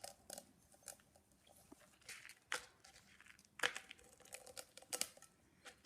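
Crushed eggshell pieces crackle and crunch as they are pressed onto a tin can, a faint, close series of irregular brittle snaps and crinkles with no talking.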